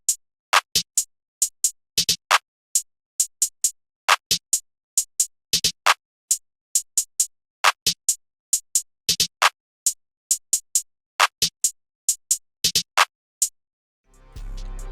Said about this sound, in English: I'll play it with the clap and the hi-hat so you can hear the bounce.